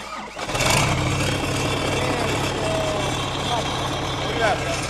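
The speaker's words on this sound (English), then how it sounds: "engine is so loud because it like just goes straight out the turbo and there's no muffler." A loud tractor-pull style farm tractor engine with a turbo and no muffler cranks and fires up, then settles into a harsh, steady roar close by.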